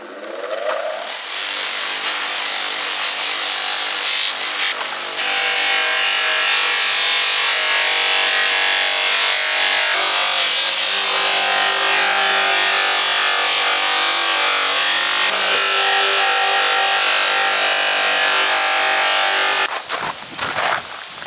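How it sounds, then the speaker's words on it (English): A buffing wheel grinds against tarnished copper with a loud, continuous harsh whir, running steadily for about twenty seconds before spinning down, with no talking over it. "got the wheel out, might as well just give it a quick buff up"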